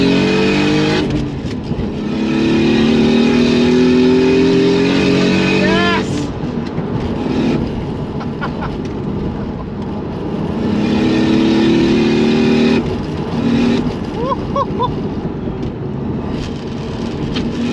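Single-turbo Toyota Supra with a manual gearbox pulls hard in second gear, its engine note rising loud and close, dropping on shifts and climbing again, with turbo whistles and a short pause between pulls; speech is heard over it.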